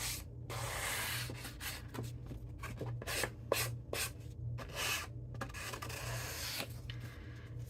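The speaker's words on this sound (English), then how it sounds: "you can take a sanding block and just kind of smooth out those little frayed edges" Repeated rasping strokes of a sanding block rubbing across paper, steady back-and-forth scraping close up, with a low hum underneath and no talking.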